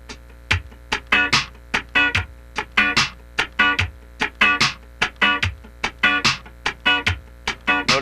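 Muted funk rhythm guitar strums, close and unaccompanied, with upstrokes placed on the fourth sixteenth note, giving a tight syncopated pattern of short scratchy chops repeating across several bars.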